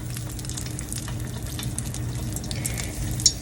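Chicken croquettes coated in flour fry in hot oil with a steady, crackling sizzle and scattered pops. The sound is close and continuous, with no talk over it.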